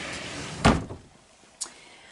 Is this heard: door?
yes